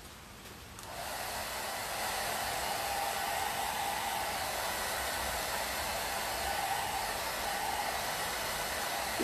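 A hair dryer blows steadily at close range to dry a decorated craft box covered in grated coconut texture. It switches on at the start and keeps up a loud, even rushing hiss for the rest of the clip.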